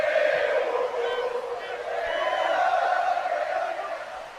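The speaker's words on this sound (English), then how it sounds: "This crowd now cheering for Chad Gable." A wrestling arena crowd cheers for Chad Gable, a sustained roar of many voices with whoops and shouts swelling and fading slightly, with no clear single voice standing out.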